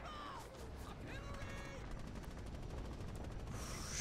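Gunfire from the WWII shooter Red Orchestra 2, a dense stream of shots crackling throughout during a heavy firefight near a trench system, with voices calling out beneath it.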